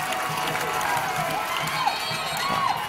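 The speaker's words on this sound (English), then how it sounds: "The crowd gets into the game." Crowd noise from a 2006 high school football game between Alcoa and McCallie, a steady murmur of spectators with scattered shouts and cheers building in the stands at moderate distance.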